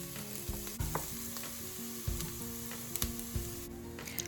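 Onions sautéing in a pan ahead of adding rice for yellow rice with sausage and peppers, a steady close sizzle with several sharp scraping thumps as they are stirred.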